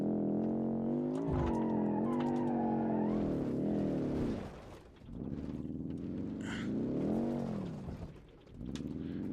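A Hirochi SBR4 base car in BeamNG.drive revs hard, its engine note climbing and falling through gear changes, with a dip and a tire skid midway; loud and close, with no talking.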